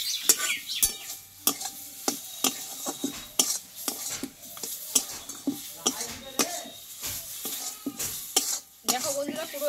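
Yardlong beans with egg stir-fried in a pan, a spatula scraping and clacking against the metal in quick repeated strokes over a steady close sizzle, with a faint voice now and then.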